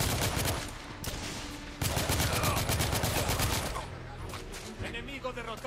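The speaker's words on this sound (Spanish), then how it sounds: "A ver, que me están disparando." Dense bursts of rapid gunfire crackle almost continuously, with brief gaps, a loud synthetic-sounding firefight in the video game The Order: 1886.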